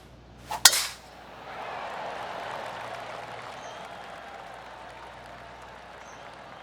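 A tee shot on the final hole of the Genesis Invitational in a golf video game: one sharp, crisp strike, followed by a swell of crowd applause that peaks and then slowly fades.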